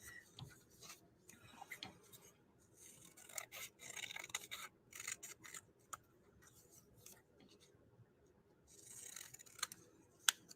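Scissors snip repeatedly through soft felt, quiet close-up cuts in irregular bursts with small rustles between them.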